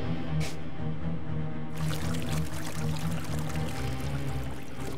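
Water floods into the J-Truck in a cartoon battle, a broad gushing pour that starts partway in over a low mechanical hum and then keeps up a constant splashing rush.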